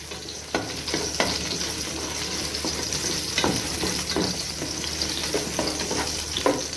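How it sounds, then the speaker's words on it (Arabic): Onion sizzles in oil in a pan for lentil soup, a loud, steady close fry broken by regular scraping stirs of a spoon, with no talk. "اديها تشويحه حلوه هنا كده في الزيت"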